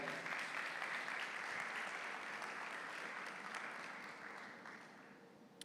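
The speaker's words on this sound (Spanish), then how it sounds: "¿Alguien puede darle un fuerte aplauso al Señor?" A church congregation applauds during a Spanish-language evangelical service, a steady, full wash of clapping from many hands that slowly fades toward the end.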